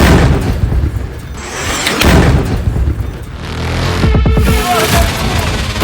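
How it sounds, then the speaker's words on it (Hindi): Loud booming blasts of a drone and missile attack rumble in succession, a heavy explosion roaring close, with brief voices breaking in near the end. "ज़ापोरिज़िया में ब्लास्ट।"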